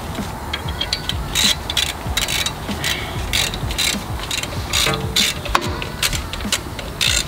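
A ratchet clicks rapidly and repeatedly as a bolt on a BMW brake rotor is tightened, sharp close metallic clicks coming in uneven bursts.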